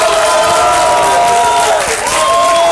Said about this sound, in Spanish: Por favor, fuerte el aplauso.